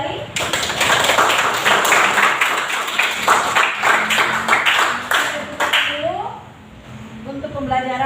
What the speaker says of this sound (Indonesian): Kita tepuk tangan kembali.